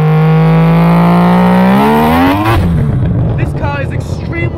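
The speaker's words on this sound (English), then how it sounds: "The motor has been bridge ported, and it sounds so good." Bridge-ported, turbocharged 20B three-rotor engine in a 1000 hp Mazda Eunos Cosmo revving hard, a loud rising buzzing wail that climbs steadily then drops into a choppy, popping idle with crackles, very close.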